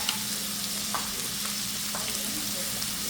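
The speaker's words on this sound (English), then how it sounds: "We're gonna go ahead and cook up this bacon" Chopped bacon and onion fry in a pan with a constant, even sizzle and a few faint stirring scrapes, moderately quiet and unbroken, with no one talking.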